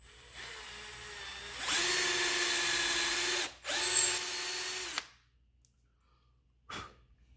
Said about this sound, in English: It'll be a lot easier to drill those holes out now